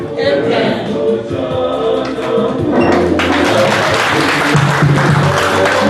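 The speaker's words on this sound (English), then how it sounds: "a very big round of applause again" Congregation applause at a funeral service, a steady dense clapping that swells louder partway through, with music and a voice underneath.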